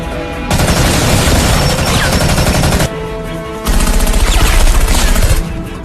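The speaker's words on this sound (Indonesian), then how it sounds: "tiba-tiba dan baku tembak pun terjadi." A gunfire exchange in a martial arts film, with dense rapid bursts of automatic shots booming loudly in two long volleys separated by a short lull.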